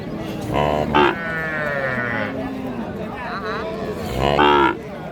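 A calf about three months old moos several times, drawn-out bleating calls close by, with people talking at moments around the calls.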